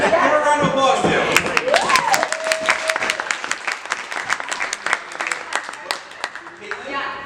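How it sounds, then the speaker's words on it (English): Audience applause at an adult stage magic show, a burst of clapping with scattered claps thinning out over several seconds, while a voice and a brief tonal sound rise over the start. "Let's give her a round of applause, too."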